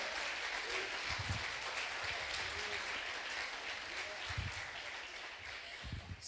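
Church congregation at a Lagoinha service applauding, a faint, diffuse patter of clapping hands running throughout with a few heavier low thumps, quiet and distant.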